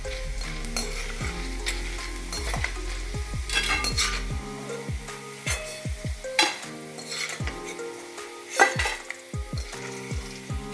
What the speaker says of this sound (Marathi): छान फुलून राहिलेलं आहे आपला डिंक. अशाप्रमाणे छान तळून घ्यायचं सगळं.